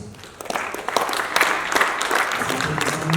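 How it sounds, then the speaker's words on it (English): Audience applause at a tech summit for engineers and staff, building quickly from a few claps into a fairly full round of clapping that holds steady through the end. "A round of applause"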